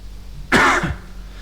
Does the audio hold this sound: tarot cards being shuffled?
no